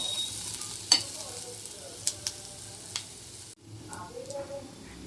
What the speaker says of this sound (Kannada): ಒಂದು 5 ನಿಮಿಷ ಫ್ರೈ ಆಗಬೇಕು.